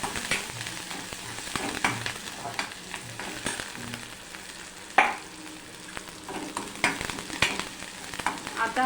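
Pithla, a gram flour dish, frying in a pan for a crisp finish: a steady close sizzle with scattered stirring scrapes and small pops, no one speaking.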